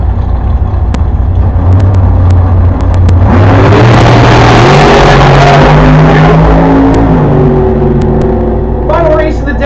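Drag race cars at a Kearney, Nebraska state championship event launch off the line with a roaring surge of engines that rises and climbs in pitch, loud and close, while an announcer talks over the noise.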